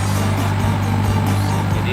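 Daihatsu Ceria small hatchback idling with a rough, steady exhaust drone and faint irregular pops, recorded close up with constant engine noise throughout.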